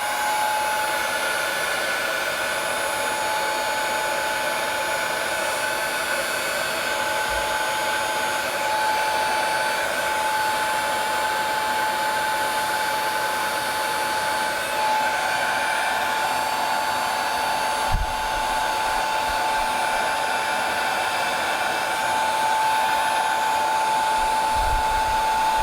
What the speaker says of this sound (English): So this is my original heat gun, believe it or not, from around 30 years ago